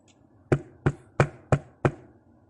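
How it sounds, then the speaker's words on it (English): Five sharp knocks on a door come at an even, brisk pace, loud and close, with quiet between each rap and no talking. "She knocks on Anastasia's door"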